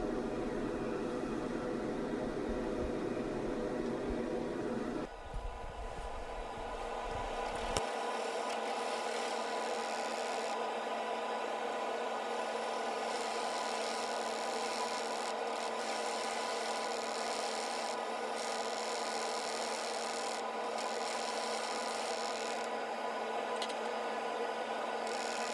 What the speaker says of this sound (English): I'm using a jam chuck here to take off the tenon